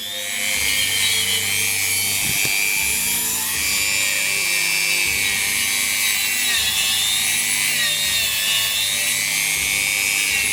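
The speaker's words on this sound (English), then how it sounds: "Dremel does a pretty good job actually with a wire wheel on it." A Dremel rotary tool fitted with a wire wheel runs continuously at high speed on a clock part, a steady whining buzz with faint scratchy variation, close and alone.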